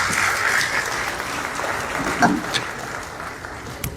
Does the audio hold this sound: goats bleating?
no